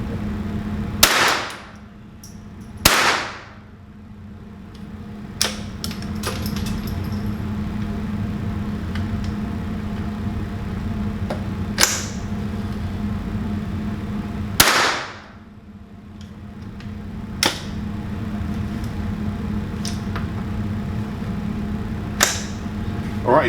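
A Henry AR-7 rifle firing rounds outdoors, several sharp loud cracks spaced irregularly over a steady background hum, with no speech between the shots.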